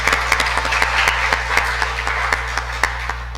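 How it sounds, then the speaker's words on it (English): A church congregation gives a round of applause: scattered, fairly soft handclaps in a steady patter over a constant low electrical hum. "Can we give them a round of applause"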